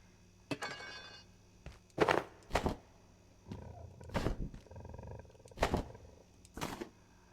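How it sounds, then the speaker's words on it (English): Lion roars inside the underground research facility of the game Abiotic Factor, several separate bursts spaced over a few seconds with low rumbling growls between them, moderately loud amid faint ambient hum, no talking. "Why do I hear a lion?"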